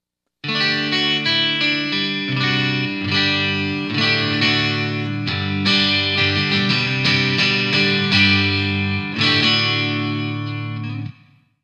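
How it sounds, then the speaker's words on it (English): An Epiphone Ultra 2 Les Paul electric guitar, treble turned fully up for a bright, acoustic-like tone, plays strummed chords and picked notes for about eleven seconds, close and steady, with no talking. "I'm going to pull up the treble all the way and get a really nice acoustic, another acoustic guitar sound."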